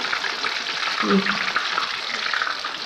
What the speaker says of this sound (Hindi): ये आप देख सकते हैं किस तरह फ्राई हो चुके हैं